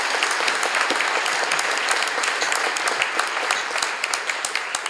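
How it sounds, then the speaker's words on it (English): An audience at a University of Washington computer science building celebration breaks into loud, sustained applause, dense clapping filling the space without pause. "They deserve a huge round of applause for that."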